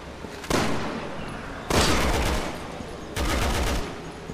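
Three heavy bursts of gunfire from Resident Evil 6, each a loud sustained blast lasting about a second or more, evenly spaced over a steady background with no talk.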